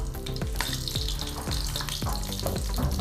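Curry leaves, cumin and garlic crackle and sizzle loudly in hot oil in a kadhai, a steady close frying hiss with sharp popping bursts about every half second, no talking.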